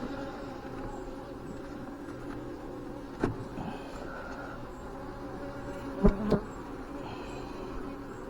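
A honeybee swarm colony buzzes at its hive, growing agitated, a low steady hum of many bees with a few louder bees passing close by, no talk.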